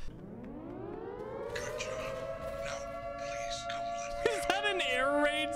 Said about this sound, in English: An air raid siren?